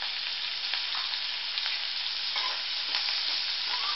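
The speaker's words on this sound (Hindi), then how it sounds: "अब हम इसमें हींग डालेंगे, जीरा डालेंगे" Asafoetida and cumin seeds sizzling in hot oil on a low flame, a steady, even hiss with faint crackles, close and without voices.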